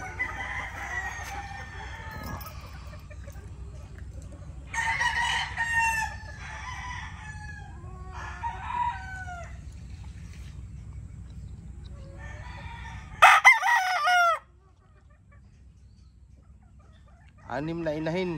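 Several roosters crow loudly and repeatedly at close range, with hens clucking between calls over a low background hum.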